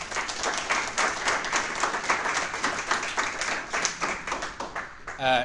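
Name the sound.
applause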